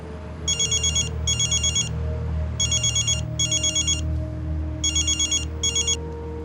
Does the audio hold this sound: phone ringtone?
yes